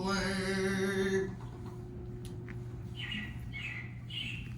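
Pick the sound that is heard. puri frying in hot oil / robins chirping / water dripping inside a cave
robins chirping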